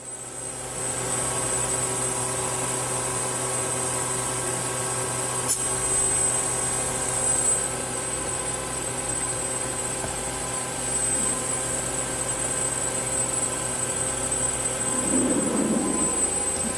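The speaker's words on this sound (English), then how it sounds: "That's 7500 RPM on the sub spindle" A CNC lathe's sub spindle spins at 7500 RPM with a steady, loud mechanical whine and hum that holds constant throughout, with no talking.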